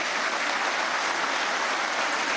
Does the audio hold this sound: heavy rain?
no